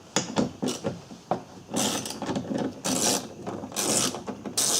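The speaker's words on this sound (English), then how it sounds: "I'm going to loosen these two bolts on the window clamps" Bolts on the window clamps of a Volkswagen Jetta driver door being loosened by hand tool, a run of close, uneven ratcheting clicks and metallic rasping scrapes that come in short bursts with brief pauses.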